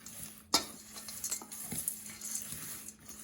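Dry granola ingredients being mixed in a bowl with a utensil, giving soft rustling and scraping strokes with a few light clinks, close and quiet, with no speech.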